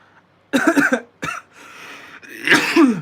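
A few close, harsh coughs in quick succession, followed by a rougher throat-clearing burst.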